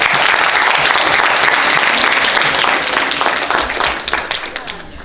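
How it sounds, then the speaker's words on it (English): A crowd at a Hindu temple youth event applauds high school graduates, loud thick clapping that holds strong, then thins out and fades toward the end. "please give them a round of applause"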